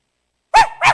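A human voice imitates a sharp, high-pitched dog bark, giving two quick yelps close up after silence, mimicking a dog barking from a nearby apartment in the early morning.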